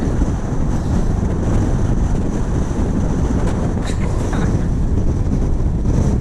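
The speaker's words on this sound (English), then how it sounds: "The wind is so strong." Strong wind blowing on a hillside walk, a constant loud roar battering the microphone for the whole stretch, with no letup and no voices.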